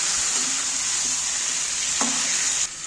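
Yogurt-marinated chicken sizzles loudly in hot oil, a constant close hiss with a few soft scrapes of stirring, then the sound drops slightly at the end.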